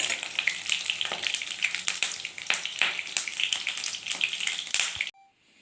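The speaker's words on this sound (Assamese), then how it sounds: "এই বেঙেনাখিনি ফ্ৰাই কৰি লৈছোঁ" Eggplant pieces fry in hot oil for a curry, giving a steady, dense sizzle and crackle with occasional stir scrapes. The sizzle cuts off abruptly near the end.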